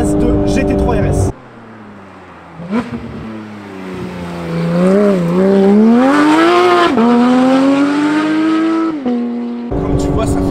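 A Porsche 991 phase 2 GT3 RS engine, loud and close, revving up through a climbing, wavering howl and then settling, with brief bits of other sound before and after.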